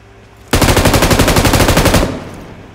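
An M249 light machine gun fires in PUBG Metro Royale, a single sustained automatic burst of about a second and a half with rapid, evenly spaced shots, loud and close, ending in a short fading tail.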